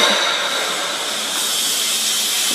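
A mixer running on an EPS cement panel production line gives a steady, loud machine hiss and whir that holds even throughout, with no voices.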